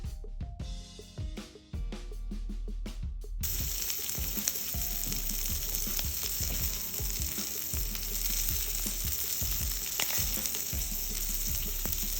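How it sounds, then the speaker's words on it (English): Shrimp fry in a hot pan. A few seconds of quieter clinks and stirring give way to a loud, steady, close sizzle that holds to the end. "It does not take these shrimp a long time to cook, so a few minutes on each side"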